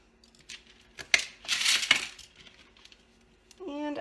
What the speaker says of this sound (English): I'm just going to cut this.